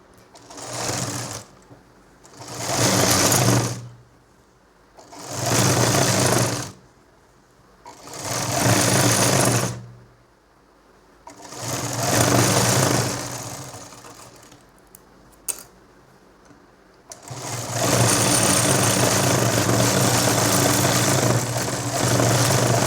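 A home sewing machine stitches a cotton nightdress in five rhythmic whirring bursts separated by short pauses, then runs in one long continuous stretch, close and loud.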